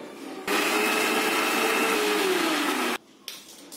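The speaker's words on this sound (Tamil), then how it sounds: "இப்போ இந்த மிக்சியில போட்டு தக்காளி பழத்தை நல்லா அடைச்சாச்சுப்பா" A kitchen mixer grinder blends tomatoes for juice: its motor switches on abruptly into a loud, steady high whine, the pitch sagging slightly under load, and cuts off after about two and a half seconds, followed by a brief clatter.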